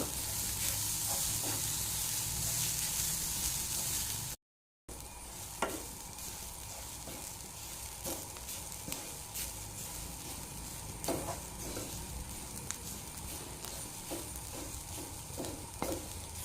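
Grated coconut with a little turmeric fries and is stirred in a pan, giving a steady sizzle and repeated scraping stirs throughout, with one brief dropout early on.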